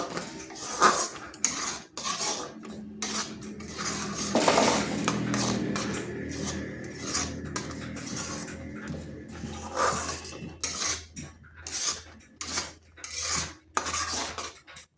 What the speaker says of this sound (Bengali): আর এইভাবে অনবরত আবার নাড়তে হবে।